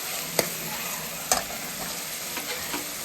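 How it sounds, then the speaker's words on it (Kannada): Onion and tomato frying in oil in a pan, a bright continuous sizzle with two sharp spatula knocks and a few softer scrapes as it is stirred. "ಟೊಮೆಟೊನೂ ಹಾಕಿಬಿಟ್ಟು ಈ ರೀತಿ ಫ್ರೈ ಮಾಡ್ಕೊತಾ ಇದ್ದೀನಿ"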